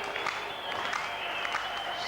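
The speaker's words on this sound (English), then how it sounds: "the French fans are slow and clapping" French rugby league fans in a stadium crowd slow-clap during a 1997 Paris St Germain v Castleford match, a dense, steady wash of clapping with a commentator's voice over it.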